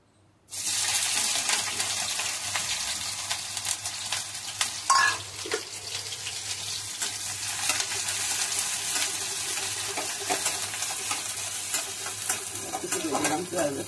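Chopped onion and chili sizzle loudly in a hot pan, a dense steady frying hiss with occasional scrapes and stirring clatter throughout.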